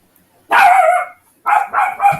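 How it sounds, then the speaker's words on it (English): A dog barks loudly and close, one long bark followed by a few quicker ones. "He's barking his fool head off."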